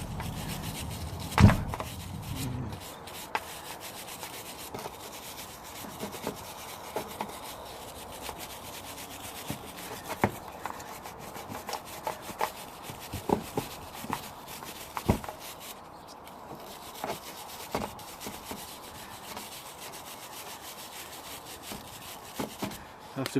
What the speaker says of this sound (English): I'm going to clean this as well, just a little bit around the bolt.